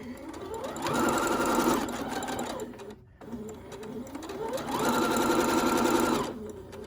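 Sewing machine hemming the edge of a fabric face mask, two sustained runs of rapid whirring stitches split by a brief pause, close and fairly loud, with the motor pitch rising and falling as each run speeds up and slows.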